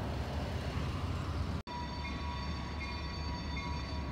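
A train pulls off a long siding back onto the main line at a railroad crossing, its steady rumble and rolling noise continuous and fairly close, broken only by one brief cut.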